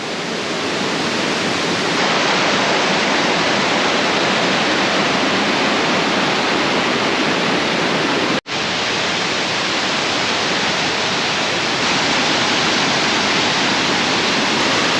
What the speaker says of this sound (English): got some beautiful cascading waterfalls coming down